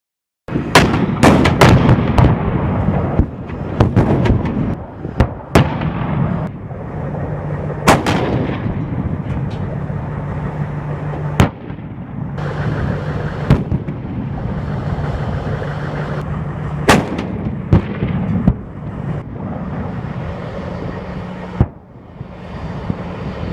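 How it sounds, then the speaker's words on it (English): M1 Abrams tanks fire their main guns during Tank Table VIII qualification, a string of heavy booming blasts at irregular intervals over a steady low engine rumble, some shots close and loud, others more distant. "just a real quick montage of some tanks going at it"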